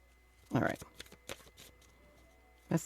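Brief bursts of tarot card shuffling, a short riffle near the start and another at the end, with quiet gaps and light handling noise between.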